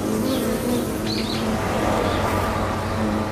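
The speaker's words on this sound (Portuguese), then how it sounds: "Ao ouvir o ruído das asas da vespa que vibram" A continuous buzzing hum from a wasp's vibrating wings as it attacks a beehive, steady and fairly loud against the insect colony's drone, with faint chirps over it.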